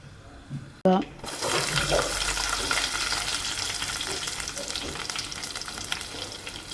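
Mustard seeds, fenugreek and chilli drop into hot oil with a sudden burst of sizzling that settles into a steady crackle and pop, close by, after a brief thud.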